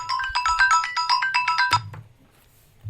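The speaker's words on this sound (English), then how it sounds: "I need to take this phone call real quick." An incoming call's phone ringtone plays a rapid repeating melodic pattern for nearly two seconds, close and clear, then cuts off to quiet.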